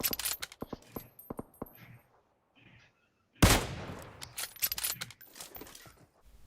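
Gunfire in the mobile battle royale game PUBG Mobile, a quick series of sharp shots followed after a short lull by a loud burst with a ringing decay, then more scattered rapid shots, heard close.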